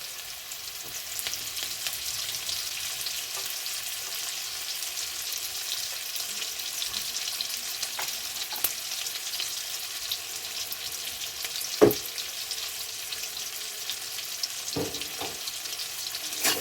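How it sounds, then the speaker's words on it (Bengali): Chopped onions frying in a pan with salt for a fish curry, a steady moderate sizzle with occasional small clicks and taps of stirring, no talking. "দিয়ে লাল লাল করে ভাজা করে নেবো পেঁয়াজগুলো"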